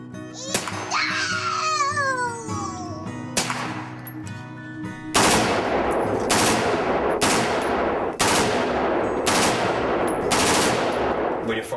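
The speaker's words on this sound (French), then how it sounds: "Quand vous tirez à la mitrailleuse, ça fait quel effet?" Machine gun firing at a shooting range in bursts: sharp repeated cracks, close and loud, in a regular series after an opening stretch of other noise.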